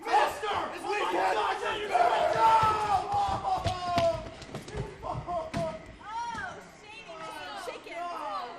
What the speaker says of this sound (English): The people are still cheering him.